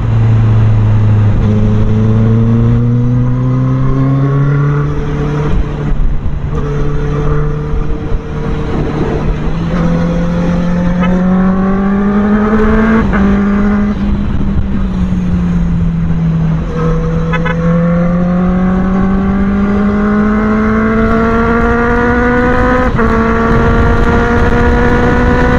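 A Honda CB650R motorcycle accelerates hard through several gears, its loud, close engine whine climbing in pitch and then dropping at each shift before rising again, with no talking.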